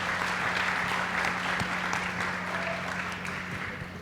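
An audience at a book-talk forum claps steadily and densely, a continuous wash of applause from a large crowd that holds at even loudness throughout.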